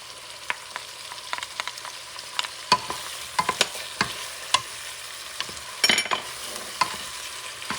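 Garlic sizzling in a pot for Puerto Rican mondongo tripe soup, a soft continuous fry punctuated by frequent sharp clicks and scrapes of a spoon stirring against the pot.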